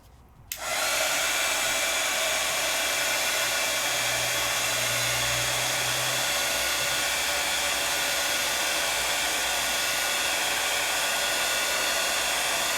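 Heat embossing tool blowing hot air over a layering stencil on Gasen paper painted with van Gogh watercolor, a steady loud roaring whoosh that switches on abruptly and runs continuously.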